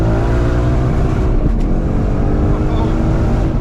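A three-wheeled limousine with hydraulic suspension revs its engine loudly in second gear, a steady, close, throaty drone with a brief rise partway through.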